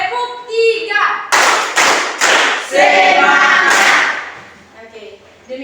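Tenth-grade students in a classroom perform a rhythmic cheer clap: a series of loud, crisp group claps in quick beats, set between short spoken counts by a teacher.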